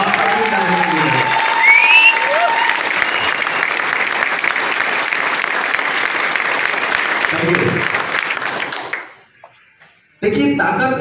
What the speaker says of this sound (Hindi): उन शख्सियत का नाम आप लोग के जोरदार तालियों के बीच लेना चाहूंगा।